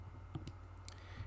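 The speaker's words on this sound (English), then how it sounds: "So I'm typing that in." Calculator buttons being pressed to enter a number, a few soft, separate clicks over a steady low hum.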